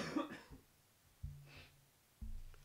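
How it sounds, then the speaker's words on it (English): A few quiet coughs and throat sounds from a person who is ill, heard faintly at a distance, separated by short pauses over a low background hum. "I apologize if you hear me coughing in the background"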